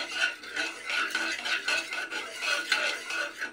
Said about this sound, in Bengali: তেলটাকে চারিদিকে নাড়িয়ে দিলাম।